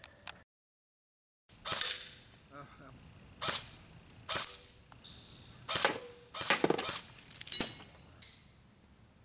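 A Barra 400E electric AEG BB rifle shooting bursts at targets 15 yards away, with several loud, close clusters of rapid snapping shots and pellet impacts separated by brief pauses, after an opening moment of silence.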